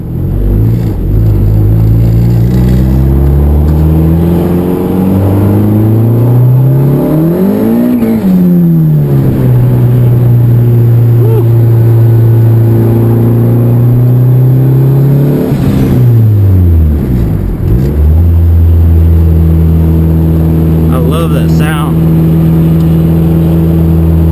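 Turbocharged Acura Integra engine under way with the window cracked, a loud continuous drone rising and falling in pitch through several gear changes, with steady road rumble underneath and no talking.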